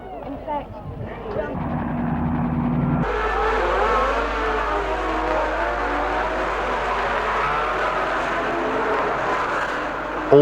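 1962 Formula 1 race cars roar away from the start of the Belgian Grand Prix at Spa, a loud, sustained engine din building after a brief quieter opening, with a commentator talking over it.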